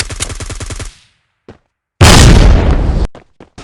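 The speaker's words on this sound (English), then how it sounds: "Grenade." A grenade blast in the shooter game Forward Assault: a loud, dense roar of about a second after a burst of rapid gunfire, then a few scattered sharp shots.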